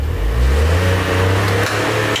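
A VW up! with its TSI engine revs hard and steadily while towing a crashed BMW M3, the loud mid-pitched drone holding close and continuous for about two seconds with no talk over it.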